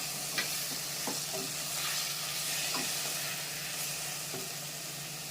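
Okra frying in a pan for a tamarind curry sizzles softly and steadily, with occasional light spatula taps and scrapes at irregular intervals, fairly quiet and without talk.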